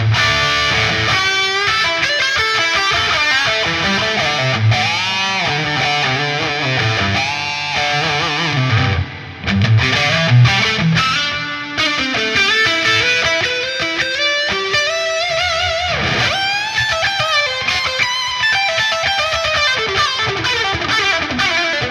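Electric guitar played through a Friedman Smallbox distortion pedal, loud and continuous, with sustained chords and melodic lines ringing throughout.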